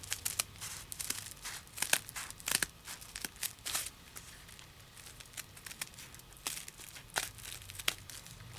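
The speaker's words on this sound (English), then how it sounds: "I'm going to cut a straight edge." Cutting a straight edge of paper at a scrapbooking table gives a steady series of sharp, close snips and crinkles in an irregular rhythm, heard alone.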